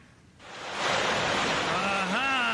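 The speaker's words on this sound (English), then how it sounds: "Here comes water." Floodwater released from opened dam gates in a radio drama, a broad rushing roar that swells up from a quiet start and keeps surging steadily, loud and close, with a faint rising whistle-like tone near the end.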